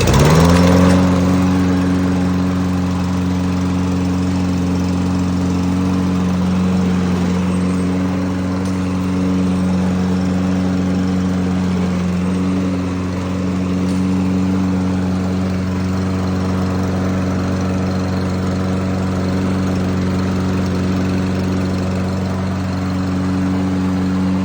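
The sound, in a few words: Toro Recycler Vortex gas lawn mower starting and running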